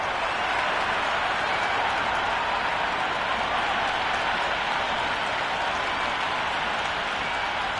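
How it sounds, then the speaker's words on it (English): Cricket stadium crowd before an IPL match between CSK and RR, a dense, steady roar of cheering and applause filling the whole stretch, broad and constant with no single voice standing out. "already the crowd is up and about"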